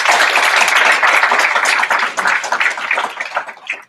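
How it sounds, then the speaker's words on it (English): A room full of people applauding two speakers at an ethical finance talk, a loud, dense wash of clapping that holds steady, then tapers gradually toward the end. "Can we all just give both of our speakers a huge round of applause for the room?"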